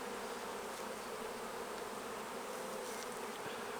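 Honey bees drone in a dense, continuous buzz at an open hive during queen rearing work, steady and close with no voices.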